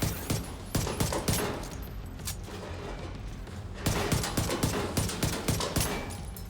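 Rapid automatic gunfire in The Division 2 video game, bursts of sharp shots in quick succession, fairly loud, pausing briefly midway before another sustained volley.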